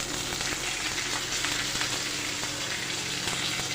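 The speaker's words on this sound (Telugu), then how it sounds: "ఇవి కాస్త ఎర్రగా వేగాలండి, అప్పుడే టేస్ట్ అనేది బాగుంటుంది." Green chillies, curry leaves and dried red chillies fry in hot oil with a steady, close, dense sizzle that holds evenly throughout, with a few faint stirring clicks and no voices.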